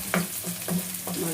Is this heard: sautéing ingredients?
yes